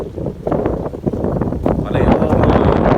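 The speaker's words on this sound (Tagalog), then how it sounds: "Pasensya na po sa hangin at napakahangin pa rin." Strong gusts from Super Typhoon Uwan buffet the microphone at a damaged hanging bridge in Rizal, Nueva Ecija, a loud, continuous roar with rustling and low rumble.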